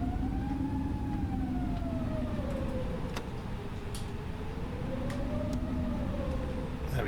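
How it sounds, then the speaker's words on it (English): Airbus A320 engines in a flight simulator spool up for taxi, a steady loud broadband roar with a slowly wavering whine rising and falling across the whole stretch, with a few faint clicks on top. "So we'll gently increase the engines."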